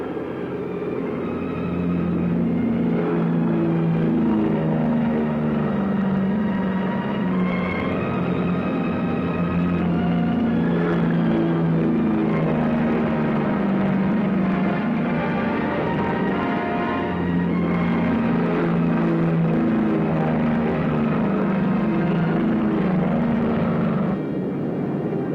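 Several military aircraft engines roar continuously at full throttle during takeoff in a 1945 wartime combat setting, loud, dense and sustained throughout, with rising and falling tonal drones as planes follow one another at intervals.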